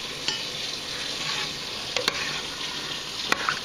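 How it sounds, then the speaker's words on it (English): Dry herbs and Old Bay seasoning are stirred into a pot of red crab soup, with a steady sizzling simmer and a few light, sharp clicks of the spoon against the pot. "we'll stir that together"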